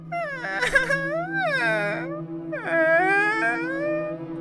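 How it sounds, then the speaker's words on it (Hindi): A ghost in a forest wails in long, rising and falling crying sobs, three drawn-out cries over a steady low background drone. "उसे किसी के रोने की आवाज सुनाई दी।"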